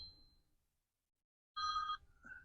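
A telephone rings in a quiet workshop during a GMC van interior build, one short electronic ring burst followed by a softer chirp, with near silence before it.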